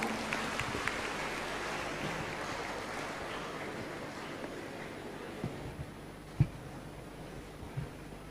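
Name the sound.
audience applause at graduation ceremony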